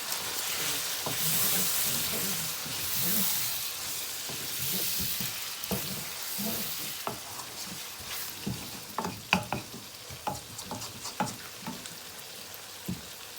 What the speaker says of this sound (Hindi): भूनते हुए तकरीबन 10 मिनट हो चुके हैं। साथ में हमने जो अदरक और लहसुन का पाउडर था वो डाल देंगे इसके अंदर।